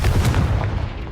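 Confringo blasting spell in Hogwarts Legacy hits with a loud, close, gunshot-like blast and heavy boom, a few sharp impacts within a second before dying away, with nobody talking.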